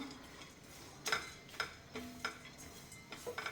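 Cashews roast in a pan while a spoon stirs them, making quiet, intermittent scraping and light clinking strokes over a soft background hiss.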